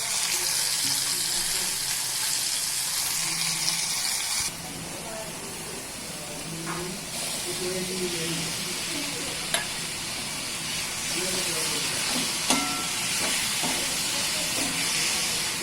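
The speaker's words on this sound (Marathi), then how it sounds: "कांद्याची पात, कांदा, जिरं, हिरवी मिरची परतायला टाकली" Spring onion, onion, cumin and green chilli frying in a pan for Khandeshi vangi bharit, a soft continuous sizzle and hiss with occasional clicks of stirring, fairly quiet and close.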